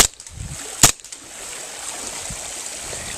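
A KJW M1911 pistol running on CO2 fires a single sharp, loud airsoft shot that cracks out briefly and then gives way to quiet room tone.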